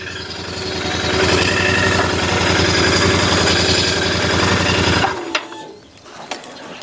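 A Royal Enfield Continental GT 650 twin idles close by with a steady, throbbing rumble for about five seconds, then cuts out abruptly, leaving near silence with a few faint clicks and handling noises.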